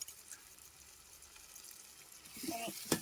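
Ginger garlic paste hits softened tomato in a hot pan, giving a low steady sizzle that swells into louder frying and a sharp clatter near the end.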